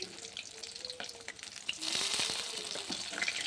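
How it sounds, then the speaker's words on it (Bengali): Hot fried rohu fish pieces are dropped one by one into curry gravy, setting off a sudden loud hissing sizzle that swells over the softer crackle of frying oil and stays loud to the end. "একটা একটা করে ঝোলের মধ্যে দিয়ে দেবো গরম গরম মাছ।"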